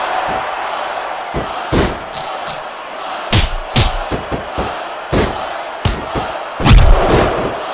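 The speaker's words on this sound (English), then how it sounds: "the crowd has come alive tonight with a chant directed at the superstars in the ring" A roaring arena crowd chants during a WWE SmackDown vs RAW 2006 Ironman match on PS2, a loud, steady din punctuated by repeated heavy slams and thuds from the ring.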